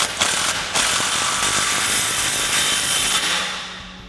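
A ratchet snugs up an exhaust clamp on a 2009-2018 RAM 1500 5.7L dual exhaust system, rapid close clicking in a continuous burst with brief pauses, loud and alone, fading out at the end.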